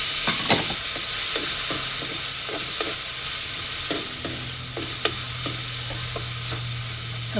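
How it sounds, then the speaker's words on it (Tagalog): Tomatoes sauté in butter in a pan, a constant close sizzle broken by repeated scraping stirs of a utensil at an irregular pace. "Ngayon, maglalagay ako ng kunting butter. At igigisa ko yung kamatis."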